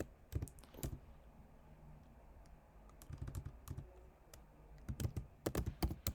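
Someone types on a computer keyboard while writing basic Python code, producing scattered bursts of crisp key clicks, fairly faint and close, with short gaps between runs and no talking.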